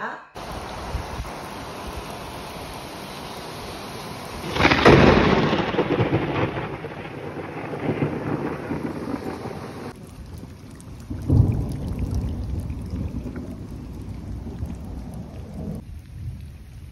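Heavy rain pours steadily throughout a thunderstorm, broken by two loud, close thunderclaps that crash and rumble before fading back into the rain's hiss.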